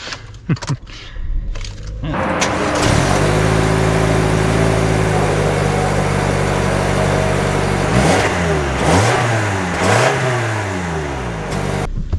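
A 2025 Toyota RAV4 LE with a key ignition and two-wheel drive starts up after a few clicks and knocks, then idles with a steady hum. It revs up through several rising and falling gear pulls, heard from inside the cabin.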